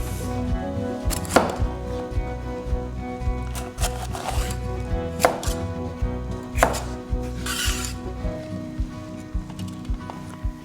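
A knife chops red capsicum on a cutting board in a steady run of crisp, close thuds, several sharper strikes standing out, with no talk.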